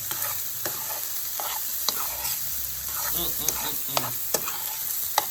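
Vegetable fried rice with soy sauce sizzles steadily in a hot pan, with scraping stirs and occasional sharp utensil clicks against the pan throughout.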